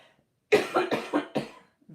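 A burst of four or five rapid, harsh coughs from one person, close and loud, following a short silence, then a faint throat sound at the end.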